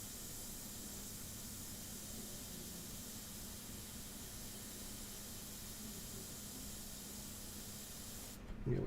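An airbrush sprays paint in a continuous, faint, even hiss that holds steady throughout, with a brief louder burst at the very end.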